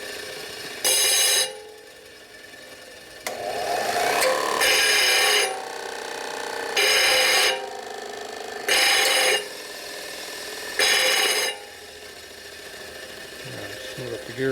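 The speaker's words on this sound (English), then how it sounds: "now I'm going to get this ground down a little bit" A part from a 1957 Harley panhead engine being ground down, the grinder screeching in five separate bursts of a second or so, with quieter handling and scraping in the pauses between.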